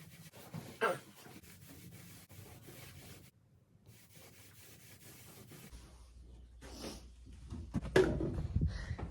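Hand sanding on a wooden seat from a 14 ft StarCraft aluminum fishing boat, a close scratchy rubbing in uneven strokes with brief pauses, growing rougher and louder toward the end.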